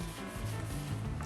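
Steady rubbing and scrubbing as gunk is cleaned off a Subaru cylinder head on a WRX, STI, Legacy GT or Forester XT engine, a close, continuous friction sound with low rhythmic pulses and no talking.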